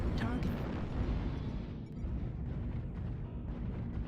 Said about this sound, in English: another large pulse and medium laser mix from the Esoteric on his Stormcrow